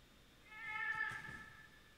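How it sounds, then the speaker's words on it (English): A cat in the video game Monster Hunter Stories 2 gives a single clear, drawn-out meow with a rising then falling tone, close and fairly soft against quiet game background. "Is that a cat?"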